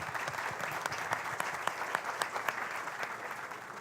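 A crowd applauds with dense, steady clapping throughout, heard from a moderate distance.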